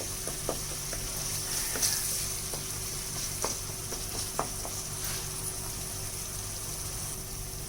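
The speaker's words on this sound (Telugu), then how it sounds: "ఇంకో కొంచెం వేగాలండి, వేపేసుకుందాం" Frying in a pan while making tomato rice gives a soft, steady sizzle at low level, dotted with occasional light clicks and taps of a utensil.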